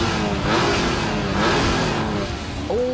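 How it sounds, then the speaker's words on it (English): TVR 350 with 350 brake horsepower, Honda NSX and Porsche 911 accelerating hard off the line in a drag race, their engines revving loudly with rising pitch sweeps and gear-change dips, close and continuous. "a United Nations drag race, with Britain being represented by a 350 brake horsepower TVR 350, Japan by the Honda NSX, and from Germany, a 911"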